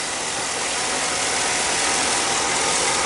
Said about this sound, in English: It was cool to hear it rev, you know, like 6 grand though.